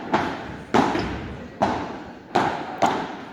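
A padel ball thumps against the glass wall and roof of the court in a series of five dull, fairly loud knocks, each fading quickly, with faint voices in the background.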